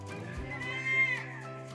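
A goat in the Philippines gives one drawn-out, wavering bleat that swells and fades close by, over a low steady background hum.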